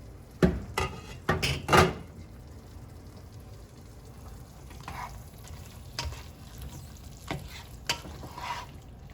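Beef stir-frying in a pan gives a soft continuous sizzle, broken by a quick cluster of sharp utensil scrapes and clacks early on and a few scattered knocks later, fairly quiet overall.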